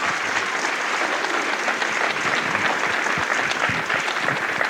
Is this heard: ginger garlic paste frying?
no